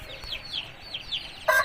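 Aseel rooster, a three-time winning fighting bird of the khapreli nali type, gives soft repeated clucks close by with a louder burst of calls at the end.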